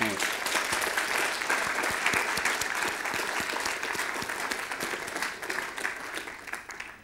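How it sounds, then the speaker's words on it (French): An audience at a programming conference claps in steady, dense applause that gradually thins and fades toward the end. "si vous pouvez les applaudir."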